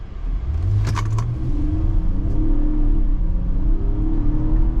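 A 2023 Infiniti QX60 Pure AWD with a naturally aspirated 3.5-liter V6 and 9-speed automatic accelerates, its engine drone rising steadily and loud from inside the cabin, with a brief light jingle early on.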